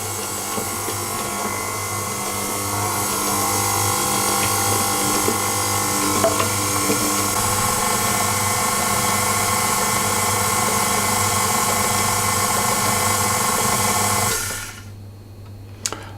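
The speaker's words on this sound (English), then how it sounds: "I'm now going to mix the 150 millilitres of milk in as well" An electric mixer whirs steadily for about fourteen seconds, beating milk into a caraway seed cake batter, with a loud continuous motor drone and faint rattling before it switches off.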